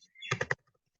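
A few quick keystrokes on a computer keyboard, three close clicks in fast succession, short and fairly quiet, with no voice over them.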